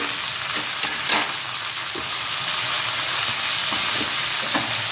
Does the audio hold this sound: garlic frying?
yes